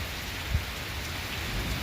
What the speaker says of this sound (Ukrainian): Дощ іде десь далі.